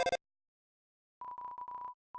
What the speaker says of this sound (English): Phone is ringing, but you can't get it.